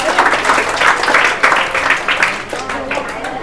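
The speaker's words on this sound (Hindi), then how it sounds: "ताली बजाओ जल्दी से" Students in a classroom clap together in a lively, uneven burst of applause that swells and fades, with voices talking over the clapping.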